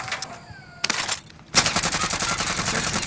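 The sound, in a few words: sentry gun turret firing in a video game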